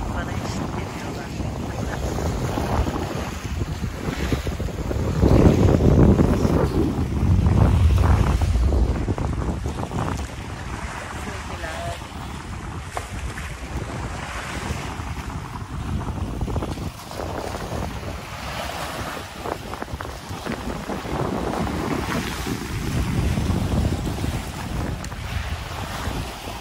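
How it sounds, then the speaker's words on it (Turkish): Sea waves wash and slosh around a moving boat at sea, a continuous rushing swell that rises and falls, heavily mixed with wind buffeting the microphone. "Biraz dinleyin arkadaşlar, dalgaların salınımını kaydedin."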